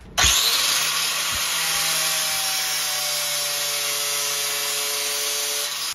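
A power saw cuts laminate vinyl flooring, starting abruptly and holding a loud, steady high whine with a rasping bite throughout, close up and with no talk.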